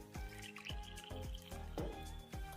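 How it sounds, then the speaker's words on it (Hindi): Water is poured in several short splashing bursts from a small container into a bowl of gram flour, each pour dripping and trickling, quiet and close. "जिस बर्तन से आपने बेसन लिया है उसी से आपको भर के पानी डाल देना है"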